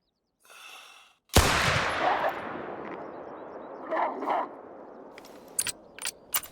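A single pistol shot rings out in the hunting game theHunter: Call of the Wild. It is a sharp, loud crack followed by a long rolling echo that fades over several seconds, with a few faint clicks afterward.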